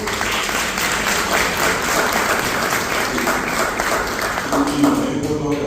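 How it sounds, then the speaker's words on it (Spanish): Steady applause from an audience at a book presentation in Paraguay, dense clapping sustained evenly through the clip with faint murmuring underneath. "Yo creo que también la licenciada Vidalia se merece un aplauso fuerte."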